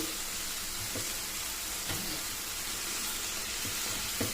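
Coconut and jaggery filling for millet ragi sweet paratha cooks in a pan with a steady, soft sizzle throughout, broken by a few faint scrapes of stirring, no voices.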